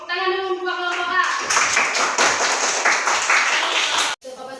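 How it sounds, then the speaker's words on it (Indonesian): A classroom of students in Banda Aceh breaks into loud applause for group A. A voice speaks briefly, then dense, close clapping lasts about three seconds before it cuts off. "Tepuk tangan dulu dua kelompok A"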